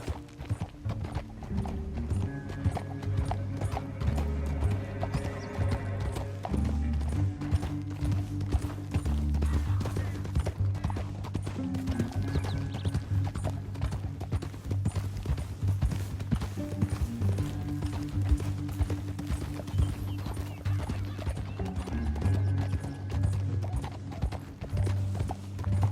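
Steady horse hooves clip-clop for the whole stretch at a walking pace in Red Dead Redemption 2, with low rumbling ambience and faint mechanical creaks underneath.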